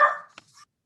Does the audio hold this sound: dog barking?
yes